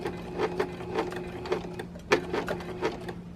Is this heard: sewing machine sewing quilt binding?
yes